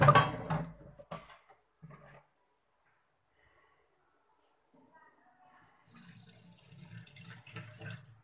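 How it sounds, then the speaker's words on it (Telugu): Water from a drinking-water can dirty with green algae splashes into a plate, heard as short bursts of pouring and splashing at the start and a longer steady trickle toward the end, with a person talking in between. "సో చూడండి ఒక ప్లేట్లో తీస్తున్నాను వాటర్"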